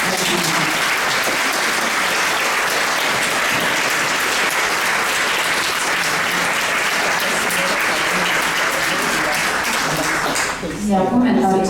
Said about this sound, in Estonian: No nii, aga veel kord suur aplaus Tiinale.